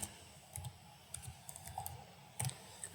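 Keys tapped on a computer keyboard while entering a slide title in PowerPoint, with a few quiet, irregular clusters of clicks over a low background hum.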